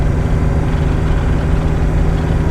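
A Mercedes W115 220D diesel engine drones loudly and steadily while pulling uphill on a mountain road, a deep continuous rumble with a constant low hum and no voices.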